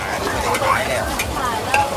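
Catfish curry being stirred in a pot at a southern Thai curry shop, with steady scraping and sizzling from the cooking pot running throughout, fairly close and moderately loud.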